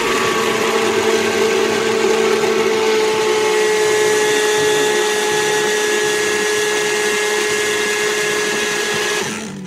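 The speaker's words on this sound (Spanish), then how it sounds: "Cerramos, la ponemos en nuestra batidora." An electric blender whirs continuously, mixing milk with vanilla and blue food colouring; a loud, steady high-pitched motor whine running close by until it cuts off at the very end.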